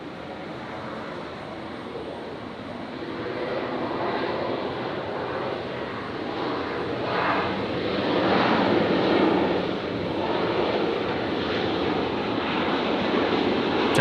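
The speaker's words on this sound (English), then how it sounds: "Qantas 546 touching down from Sydney." A Qantas airliner arriving from Sydney touches down at night at Brisbane International Airport, a broad distant engine roar that swells and fades over several seconds, with no talk.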